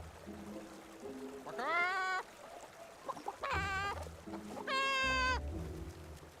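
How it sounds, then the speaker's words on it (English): A giant Barrison creature in the video game Infinity Nikki gives three drawn-out, harmonic bleating clucks, loud and close, separated by short pauses over a low background hum. "Let me jump up and see if this giant Barrison clucks."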